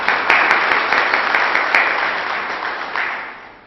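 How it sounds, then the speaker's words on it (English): An audience at a business seminar on the Indian economy breaks into loud, sustained applause, a dense steady wash of many hands clapping that gradually fades toward the end. "A big round of applause to all of them."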